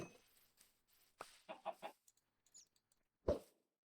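Chickens in Minecraft cluck in a handful of short, quiet bursts, close and alone with near silence between them.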